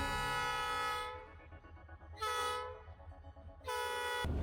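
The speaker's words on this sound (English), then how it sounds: "Hundreds of tons of massive logs are transported by this powerful train." An EMD GP38 diesel locomotive hauling a heavy timber train of massive logs sounds its horn in three loud, close blasts, with quieter engine rumble between them.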